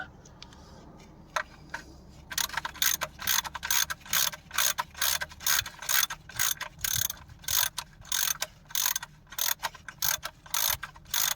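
A ratchet wrench clicks in quick repeated bursts while loosening a car's oil sump plug, each stroke a crisp rapid ratcheting close by with brief pauses between, no talk.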